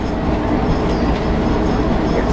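Steady loud rumbling of a guided bus running on the Luton Busway track, with faint repeated clacks over the joints under the continuous road-like roar.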